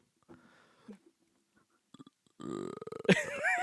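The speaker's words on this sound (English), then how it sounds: "A burp." A burp rises out of a quiet stretch of faint sounds, starting as a low, drawn-out eructation and ending in a brief rough burst, close and fairly loud, with no talk over it.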